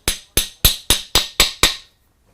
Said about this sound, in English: now our spring pin, we're just going to tap that into there.